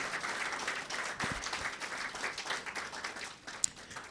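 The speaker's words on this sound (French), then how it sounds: "je vais vous supplier d'applaudir pour le succès de cette 10e édition du Salon de l'Action gouvernementale" Audience applause at the closing ceremony of SAGO 2021, the 10th Salon de l'Action gouvernementale, heard as steady, fairly faint clapping from a crowd in a hall, continuous for a few seconds.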